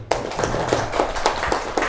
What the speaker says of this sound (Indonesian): Tepuk tangan untuk orang tua Anda ya